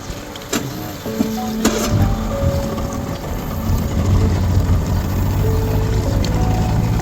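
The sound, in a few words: outboard boat motor starting and running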